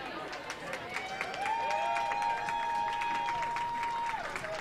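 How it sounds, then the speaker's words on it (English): Supporters at a 2019 curling bonspiel give a rink moderate applause from the rink side, mixed with a long steady whistle-like tone and some background voices. "applause coming off for the Schenectady rink"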